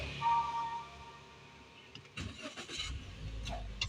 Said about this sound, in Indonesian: Nah, itu untuk menyalakan mesin.